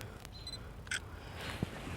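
A camera shutter clicks a few times in quick succession, crisp and close, against a quiet room background.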